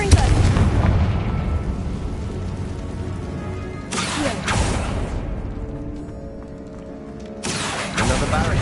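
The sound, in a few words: Confringo blasting spell explosion, from a video game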